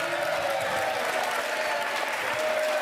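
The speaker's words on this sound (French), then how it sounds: "que je vous demande d'applaudir" Steady, dense studio audience applause on the French TV game show Les 12 Coups de Midi, a continuous even wash of clapping with little variation in loudness.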